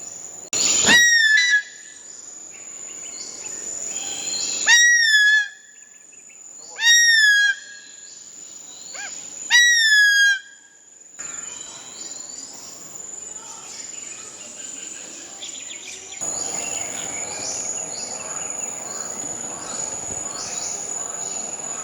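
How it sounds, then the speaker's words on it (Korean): A Philippine eagle at a conservation center gives four short, high, descending calls in separated bursts, clear and fairly near, over a steady insect-like whine and faint background ambience. "많은 수리류는 우리가 독수리, 울음소리 하면 떠오르는 날카로운 소리와는 다른 울음소리를 가지고 있습니다."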